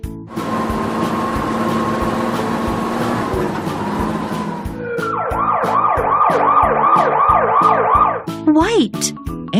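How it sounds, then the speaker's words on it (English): An ambulance siren wails loudly and close by, its rising and falling sweeps repeating steadily through the second half after a stretch of steady vehicle tones and engine noise. "Ambulance."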